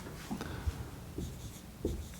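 A pen scratches across paper while an equation for a combination circuit's total power is written out, close-up strokes with small taps as each symbol is formed.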